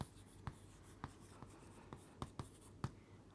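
Pen or pencil strokes on paper, written by hand in a quiet room: about eight short, soft scratches and taps at irregular intervals, with no voices.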